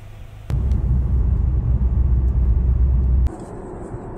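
A 2024 Mercedes-AMG GLC43 SUV on the move, its engine and road noise a steady low rumble that swells sharply after a moment, holds loud and even, then drops back to a quieter hum near the end.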